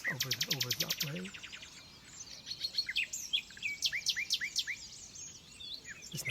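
Loud, nearby nightingale song in a dawn chorus: fast pulsed trills and rising whistled notes in repeated phrases, with other birds faintly audible in the background.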